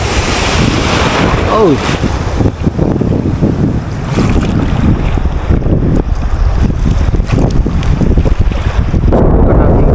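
Loud, steady ocean waves and surf at a coastal fishing spot, rushing continuously with heavy wind buffeting the microphone; someone speaks briefly over the constant roar.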